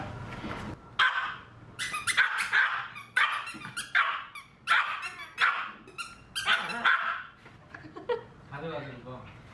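A puppy barks repeatedly in short excited bursts while playing with another dog indoors, close by, with chuckling and voices mixed in between the yips.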